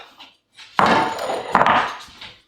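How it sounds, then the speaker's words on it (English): Garlic and oil being mixed into bread dough in a bowl, with a close scraping, knocking burst of utensil against the container that swells after a brief quiet start and fades out near the end. "I'm just going to dump in my garlic and oil and going to mix those up"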